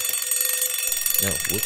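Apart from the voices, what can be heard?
alarm clock ringing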